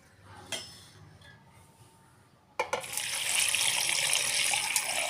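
In a home kitchen during mutton soup cooking, a tap opens partway through after a quiet stretch with a few small clinks, then water gushes steadily and loudly into a sink.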